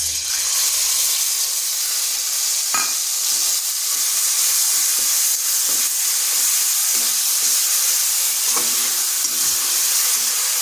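Coriander leaf paste sizzles steadily in hot oil with whole cumin seeds and a dried red chilli over low heat, a constant close frying hiss with a few faint clinks and stirring sounds.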